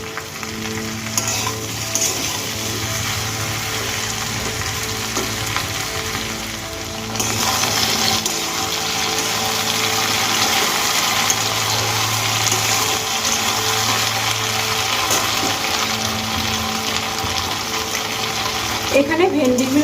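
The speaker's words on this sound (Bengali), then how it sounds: "আর ভালো করে ভেন্ডিগুলো ভেজে নেব।" Okra (bhindi) frying in a pan over a medium gas flame, a steady loud sizzle lasting throughout with occasional stirring, growing slightly louder midway.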